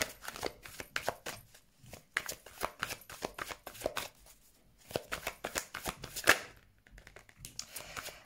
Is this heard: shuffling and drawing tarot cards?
yes